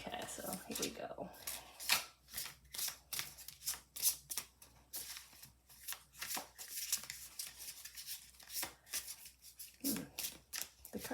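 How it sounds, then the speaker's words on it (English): Tarot cards shuffled by hand at close range, giving a steady run of crisp, papery riffling bursts that repeat throughout with brief gaps between shuffles. "we'll shuffle up, and we'll add some cards"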